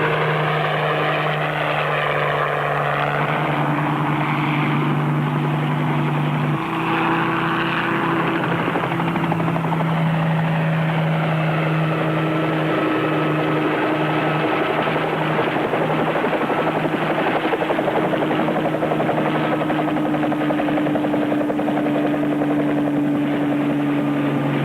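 A helicopter flies overhead as a radio drama sound effect, a loud, continuous rotor and engine drone with a steady whine that shifts in pitch partway through, heard alone without any voices.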